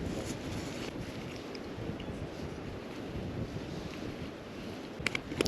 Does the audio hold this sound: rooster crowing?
no